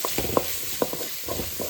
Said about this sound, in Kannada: ಸೊ ನಾರ್ಮಲ್ ಬ್ರೌನಿಷ್ ಕಲರ್ ಬರೋವರೆಗೂ ಫ್ರೈ ಮಾಡ್ಕೊಳ್ಳೋಣ